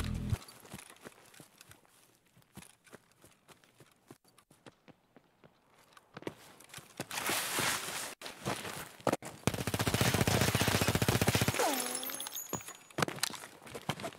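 Video game gunfire in Escape from Tarkov: scattered quiet clicks and steps give way to loud, dense bursts of automatic fire, with a short pause between volleys.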